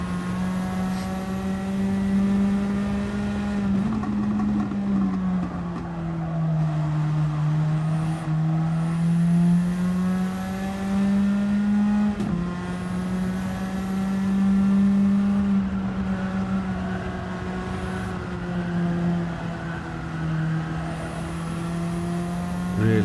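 Race cars run on soft tyres in a racing video game, a loud sustained engine whine that rises and falls with gear changes and corners across the whole stretch, with no voices.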